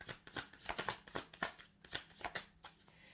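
Deck of tarot cards being shuffled close by, a quick run of soft flicking, slapping riffles in an uneven rhythm, quiet and alone.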